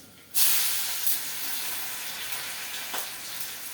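A little onion hits hot oil for tempering with a sudden loud sizzle, then keeps hissing and crackling steadily, with a few brief pops.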